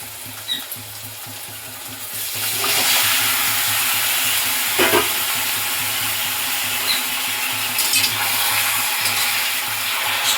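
Marinated chicken pieces sizzling in a pan with onion and tomato for a chicken curry, a loud steady frying hiss with scraping stirs, swelling once the meat goes in.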